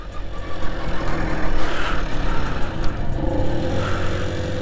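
A 1991 Tomos 50 two-stroke moped being ridden and shifted into second gear, its buzzing engine droning steadily with a fluttering rise in revs amid wind noise.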